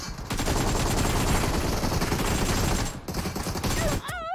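Gunfire in the mobile shooter game BGMI, a dense rapid burst of automatic shots filling several seconds with a brief pause, ending with electronic chirping game sounds.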